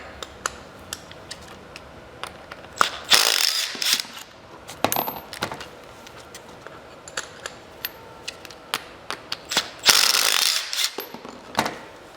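A box end wrench works bolts loose from a StrikeForce powerchair's rear drive wheel rim, with rapid metallic ratcheting clicks, loud bursts of clattering, and bolts clinking as they come out, close and busy throughout.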